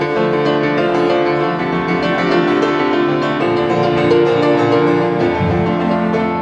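Piano and cello play together, the piano clearly leading, in a sustained, full-bodied passage with the cello's lower line running beneath, steady and fairly loud.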